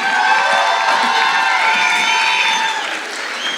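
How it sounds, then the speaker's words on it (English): An audience at a school talent show applauds and cheers for a 10-year-old performer. Dense, sustained clapping mixes with whoops and children's shouts, and it stays loud throughout before easing slightly at the end. "Give her a big round of applause."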